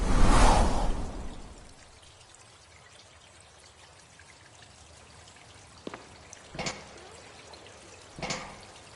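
Water rushing in the text adventure Colossal Cave, a loud burst of pouring at the start that settles into a faint, steady trickle, broken by a few brief splashy drips near the end.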